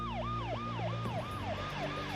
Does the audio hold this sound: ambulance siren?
yes